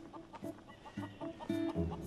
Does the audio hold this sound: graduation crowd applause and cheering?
no